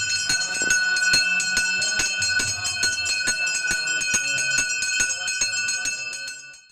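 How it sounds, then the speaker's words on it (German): A temple bell rung repeatedly at a Krishna temple, sharp metallic strikes in a steady rhythm with long shimmering overtones layering on each other, loud and close, fading away at the end. "Vergesst nicht, die Tempelglocke zu läuten"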